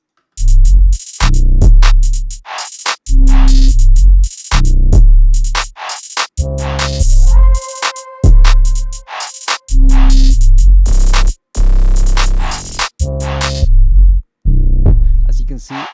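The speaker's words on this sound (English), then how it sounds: "the drums by themselves, they sound like this" A self-made drum kit beat plays on its own in punchy bursts, with heavy kicks, snappy hits and a brief tonal layer, separated by short silent gaps.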